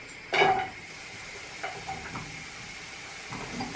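Onions frying in a pan for sweetcorn and chilli soup, a steady close sizzle and hiss with a sharp louder burst of spattering near the start, then quieter crackles continuing throughout.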